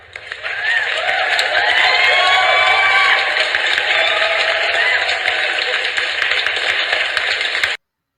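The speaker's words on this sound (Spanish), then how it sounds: "estos aplausos son el gesto espontáneo de todos los que estamos escuchando estos hermosos microrelatos" An audience applauds after a reading of short stories and poetry. The clapping is dense and steady, starting suddenly, holding at an even loudness for about seven seconds, then cutting off abruptly.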